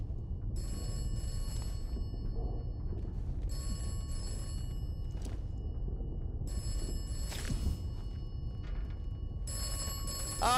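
Telephone in the game Atomfall ringing in four regular bell bursts with short silent gaps between them, bright and metallic over a low background rumble.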